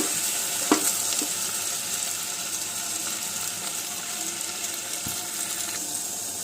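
Gongura leaves frying with tomatoes in a pan, a soft, steady sizzle at low level with a couple of brief clicks early on.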